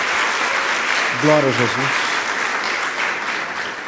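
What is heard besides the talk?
congregation applauding in church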